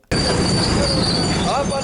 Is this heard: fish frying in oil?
no